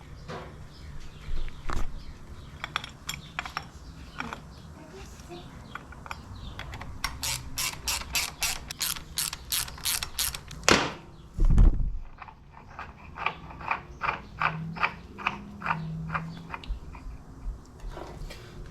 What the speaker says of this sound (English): You can just bolt these up with the screws that came out of that hole.